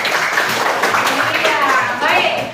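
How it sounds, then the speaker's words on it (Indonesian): Classroom children clap their hands together, a dense steady patter of many small claps spread across the whole moment, fairly loud and close, with young voices mixed in. "Oke, tepuk tangan."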